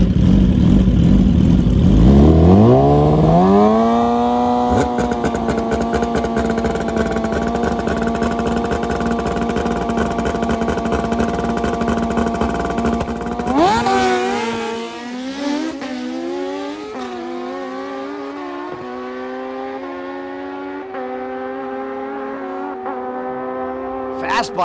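A stretched Suzuki GSXR 1000 street bike accelerating hard, its engine rising loudly in pitch through gear changes before dropping away as it moves off, with a voice talking over it.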